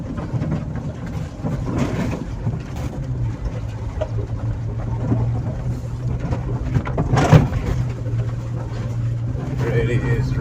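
A GWM Tank 300 diesel SUV with a turbo engine is under way, and its steady low engine drone and road rumble sit close inside the cabin, with someone talking over it.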